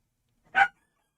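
A dog gives a single sharp, close bark during a dog fight, a short isolated burst with silence before and after.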